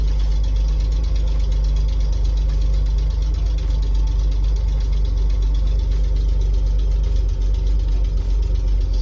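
A Volvo TGB C303 off-road truck with a B30 engine idling after a cold start, a loud, steady low rumble with an even mechanical chatter that holds constant throughout.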